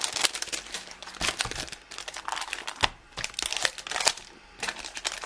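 Plastic-wrapped package of envelopes and cards being opened by hand, with loud, close crinkling and crunching bursts in an irregular rhythm, alone without talk.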